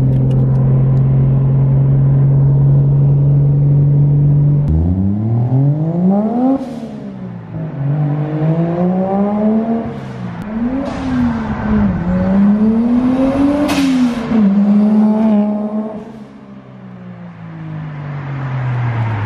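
A car with a 1JZ engine, driven with the hood off, revs and accelerates through repeated rising and falling pulls, loud and close, with the engine note swelling and easing for about twenty seconds.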